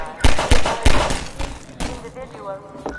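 Half-Life 2 gunfire: a quick burst of several heavy, punchy shots in the first second, then more scattered impacts, loud and close, with someone talking over the action.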